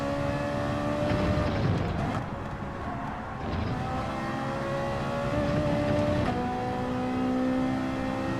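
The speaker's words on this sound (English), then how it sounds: "That Scirocco sounds great." A VW Scirocco race car engine from Gran Turismo 7 drones loudly and continuously at high revs, with pitch rising through the gears and a couple of shift drops, and no voices over it.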